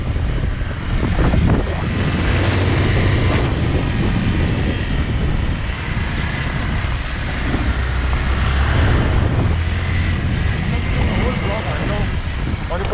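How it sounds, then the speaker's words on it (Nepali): A motorcycle engine fires up and keeps running, a loud, close, steady roar with rough wind-like noise on an outdoor ride, while people talk over it. "ल बाइक स्टार्ट भएको है काइट्स बाइक स्टार्ट"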